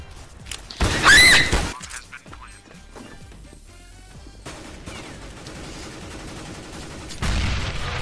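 An AK rifle fires in Counter-Strike: Global Offensive in a loud burst of rapid shots, then a quieter stretch of game sounds and another loud burst near the end.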